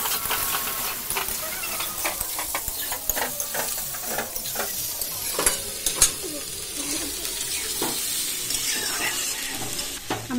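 Shredded cabbage and carrot frying in a pan, stirred with steady scraping strokes over a continuous close sizzle, with no talking.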